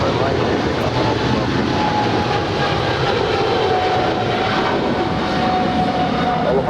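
An American Airlines heavy airliner takes off from runway 25 Right at LAX, a loud, continuous jet-engine roar that stays steady and close for the whole stretch.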